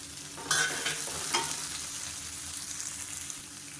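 Tomato with ginger and garlic sautéing in a pan, a soft continuous sizzle broken by a couple of brief spatula scrapes near the start.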